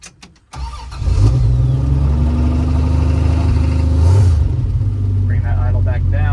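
A 1974 Plymouth Duster with a slant six engine cranks briefly and starts, then runs loud and close with a steady rev and a brief throttle blip, and a voice is heard over it near the end.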